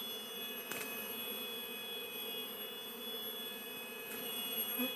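Bees buzz in a steady, continuous drone while a bee colony is being moved from one hive to another, the hum holding even throughout with no voices.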